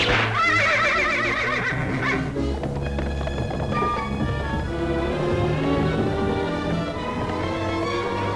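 A horse neighs and whinnies in an animated 1939 film: a loud, shrill whinny that rises and quavers, followed by fainter snorts and stray clip-clop against a busy background of music, with no talk.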